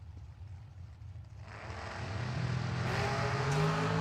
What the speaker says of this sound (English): Side by side burnouts out of the next pair